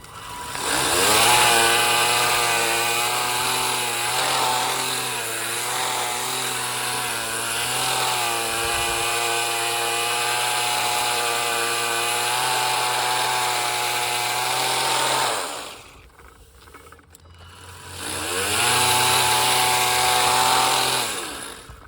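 A Ryobi sweeper attachment whirs loudly and steadily as it clears shells outdoors, its high motor whine holding for about fifteen seconds, dropping away briefly, then surging back up again.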